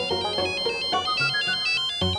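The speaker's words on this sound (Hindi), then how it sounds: "अरे पेरिस से फोन है।" A phone ringtone plays for an incoming call, a short bright repeating melodic tone with steady rhythm, alone without talk.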